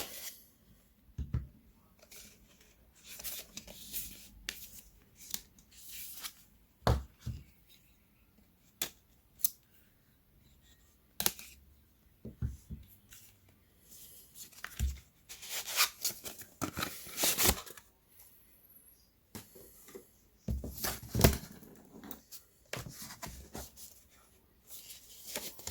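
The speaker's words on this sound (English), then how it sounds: "I have to get this thing cut apart here and see what's in the box." Cardboard packaging around a replacement battery kit for a Samsung Gear S3 watch is cut apart with scissors, giving scattered crisp snips, scrapes and rustles spread irregularly over about half a minute, close and fairly quiet.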